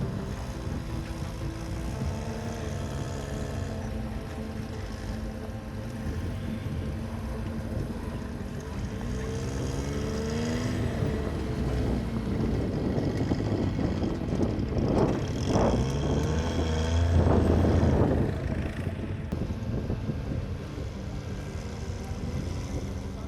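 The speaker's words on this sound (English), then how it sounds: "Serial-produced tracked ATV Tinger Armor. It has rubber tracks and 57 HP 3-cylinders engine." Tinger Armor tracked ATV on rubber tracks with a 57 HP 3-cylinder engine, driving off-road: a steady low engine drone throughout, swelling louder and rougher midway as it works harder, then settling back.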